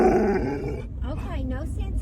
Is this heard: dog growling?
yes